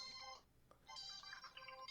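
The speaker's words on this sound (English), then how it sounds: "got a phone call." Phone ringtone plays in two short electronic bursts separated by a brief gap, bright and fairly close, with no talking over it.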